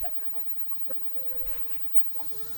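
Layer hens cluck softly and steadily while being moved to a new paddock outdoors, with scattered close and distant calls from the flock.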